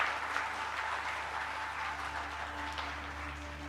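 Audience applause at the IMS 2025 curtain raiser event, a steady, moderate wash of clapping from a seated crowd, fairly even and not especially strong, with no voices over it.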